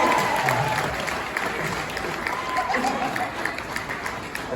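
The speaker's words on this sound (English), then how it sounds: "I want you guys to give her a big thunderous round of applause." Audience at a winter-themed magic show applauds: a steady wash of clapping from a crowd, moderately loud and sustained, with murmured voices mixed in.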